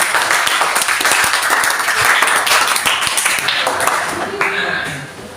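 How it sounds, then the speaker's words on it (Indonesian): Students in a classroom clap for their classmates, a dense, steady patter of many hands that carries on for several seconds and then tapers off toward the end. "Tepuk tangan buat teman-teman kalian yang sudah."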